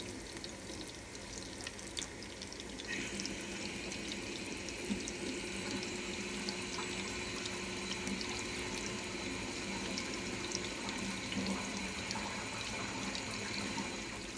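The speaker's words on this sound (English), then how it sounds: "let's go wash our hands" Kitchen tap running steadily as hands are washed during chicken burger preparation, a continuous close hiss of water with small splashes throughout, no voices.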